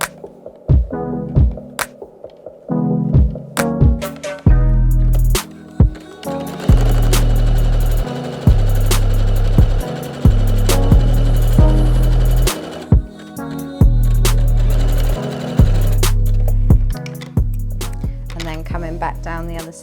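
A sewing machine stitches a shoulder seam on a Kezia top in loud, close bursts of rapid mechanical whirring, stopping and starting repeatedly with short pauses between runs.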